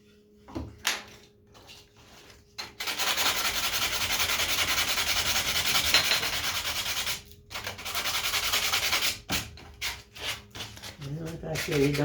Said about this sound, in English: You don't want to sand too much of it.